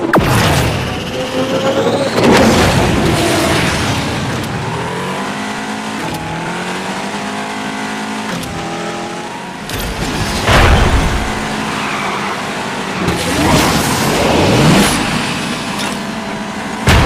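Race car engines roar in a PC racing video game, rising and falling through rapid revs and gear changes, with bursts of tyre skidding. The sound is loud and continuous throughout.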